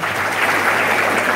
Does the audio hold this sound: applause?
yes